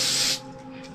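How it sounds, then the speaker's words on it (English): A can of Aqua Net hairspray releases a short, loud hissing burst that lasts about a third of a second. The spray fades into quiet room tone, and a small click follows at the end. "we're going to spray a little bit on the outside. I got my trusty Aquanet here"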